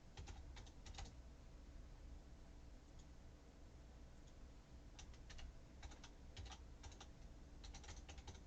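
Login credentials typed on a computer keyboard in short bursts of soft clicking keystrokes separated by pauses, faint over a constant background hum, with no talk.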